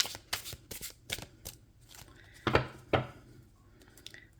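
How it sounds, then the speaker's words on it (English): A tarot card deck is shuffled by hand in soft, quick riffling bursts close to the mic, followed by a couple of louder card slaps, with no talking. "I am going to shuffle this just so it's not like the same exact order as before."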